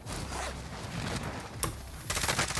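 Shotgun blasts in Call of Duty Warzone, a few sharp cracks cutting through a busy game soundscape, with one distinct hit near the middle and a rougher burst of noise toward the end.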